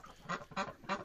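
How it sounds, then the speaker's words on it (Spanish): Ducks quacking in a garden, three loud, close bursts of quacking at a steady spacing over a low, hoarse background of other fowl. "como veis, están genial los patos"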